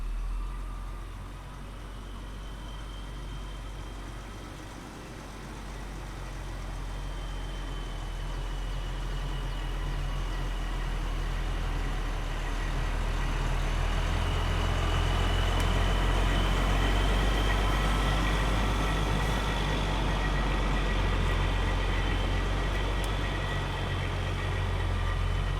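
A big, long truck delivering a bus to a junkyard idles and maneuvers with a steady, low diesel rumble that swells gradually, with no talking.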